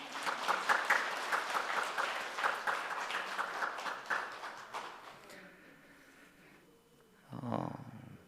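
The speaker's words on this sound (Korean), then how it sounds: "큰 박수 해주시기 바랍니다" A church congregation at a Sunday service claps together for several seconds, the applause gradually thinning and fading out before a short low sound near the end.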